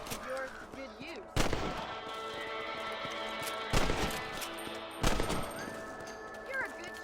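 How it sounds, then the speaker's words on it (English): Three sharp, loud gunshots crack out at spaced intervals while a player hunts rabbits in the Western game Red Dead Redemption, set over a continuous bed of game music and ambience. "You're better at shooting rabbits than outlaws, I see."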